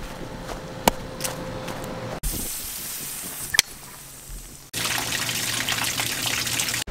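Running water gushes steadily into an RV's water tank, broadband and fairly loud, with a couple of sharp clunks and a brief pause before the flow resumes stronger.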